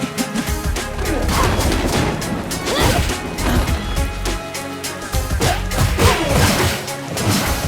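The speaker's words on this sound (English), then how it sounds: "The sound of your punches, barrels smashed, or even some bones breaking are all very good" Punches landing and wooden barrels smashing in the beat 'em up Final Vendetta, a dense run of sharp hits and crashes layered over driving game music, loud and continuous throughout.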